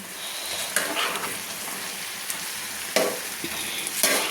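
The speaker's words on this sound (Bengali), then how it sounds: "দিয়ে আমি ভালো করে নেড়ে নিচ্ছি দেখুন পালং থেকে আস পালং শাক থেকে আস্তে আস্তে কিন্তু জল ছাড়ছি" Spinach seasoned with salt and turmeric is stirred in a pan, giving a steady close sizzle broken by a few sharp scraping strokes of the spoon against the pan.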